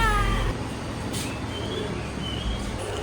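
A small kitten, one of several sick cats, meows with thin high cries in the opening half-second, then a faint wail fades into steady low rumbling background noise.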